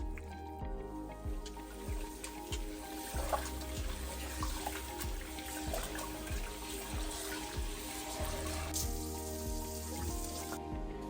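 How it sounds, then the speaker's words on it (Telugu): Tap water runs steadily into a sink while mutton is washed with salt, a continuous splashing stream with small clatters and drips, fairly close. "మటన్ అయితే మంచిగా ఫ్రెష్గా నీట్గా వాష్ చేసుకున్నాం"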